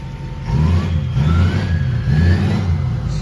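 A 6.0 diesel engine in a race-built truck, running smoky but without missing, revs loudly up close with a deep, throaty roar that rises and falls in repeated surges.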